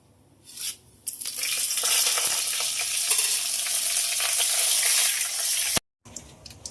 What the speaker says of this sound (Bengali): ফোড়নে দেবো তেজপাতা, শুকনো লঙ্কা, গোটা জিরে আর গোটা গরম মশলা।